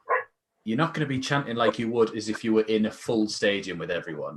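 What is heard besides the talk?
dog barking in the background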